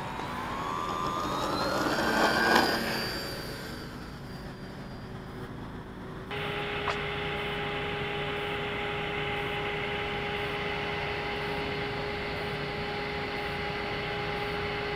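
An RC model plane with a Cobra electric motor speeding up for a scale takeoff, a high whine rising in pitch and swelling, then settling into a steady, fainter, even drone as it climbs away, with no talk.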